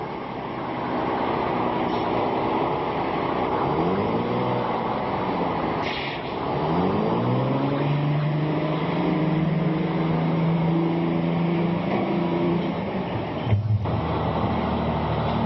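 Old transit coach number 6184, a vintage museum bus that runs well though long idle, idles with a steady diesel rumble, then revs up with rising and falling engine tones before a brief clunk near the end.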